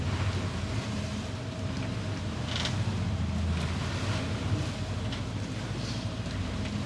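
A sailboat motoring under engine into a headwind at sea, a continuous loud rumble of engine and wind buffeting with water rushing along the hull, steady throughout and no voices.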